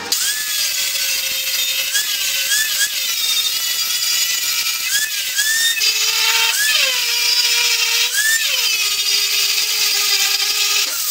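Power grinder working a metal weld during MIG repair and fabrication, a steady loud broadband grind with rising and falling tones as it bites into the metal, running continuously throughout with no talk.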